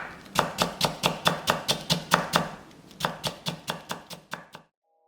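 A knife julienning cucumber thumps against a cutting board in a quick, steady run of about twenty crisp chops, close, with a short pause midway before the rhythm resumes and ends in silence.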